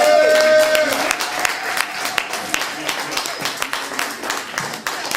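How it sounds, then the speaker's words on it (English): An audience at a tribute event claps in a sustained, fairly loud round of applause, dense and irregular, following the tail of a spoken or sung line. "give our elder a round of applause"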